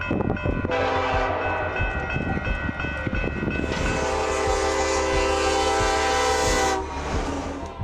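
A train on railway tracks sounds its horn in a long, loud, sustained blast that shifts in pitch partway through, with the low rumble of the rolling train beneath.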